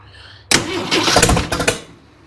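A used Jeep 4.2 engine bought secondhand cranks loudly on its first start attempt after a quiet moment, a close churning roar of about two seconds with rapid pulsing that sputters and then cuts out.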